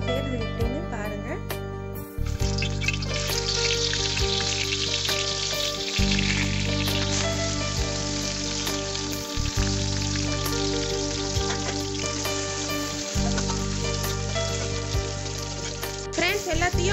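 Spices frying in hot oil in a pan for a stingray curry: a steady, close, continuous sizzle with a few brief dips, over a low constant hum.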